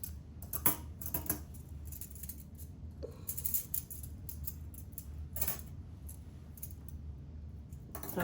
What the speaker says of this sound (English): So I just put all my scissors and everything together.